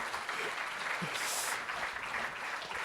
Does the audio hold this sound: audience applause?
yes